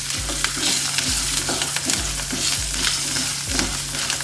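Small garlic cloves dropped into a hot pan of oil for an okra masala crackle and sizzle loudly and continuously, with short rhythmic scrapes from stirring roughly every half second.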